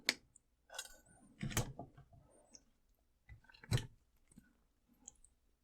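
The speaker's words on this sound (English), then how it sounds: "We're going to cut the 2 wires off about 3/4 of an inch from where they come out." Two jewelry wires on a wire-wrapped cabochon pendant snipped with cutters, giving a few crisp, close clicks and snaps separated by pauses, mixed with light handling noise.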